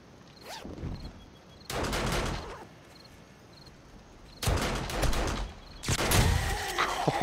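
Bursts of gunfire during horde night in the survival video game 7 Days To Die, several loud rapid volleys separated by short lulls, with faint in-game ambience between the shots.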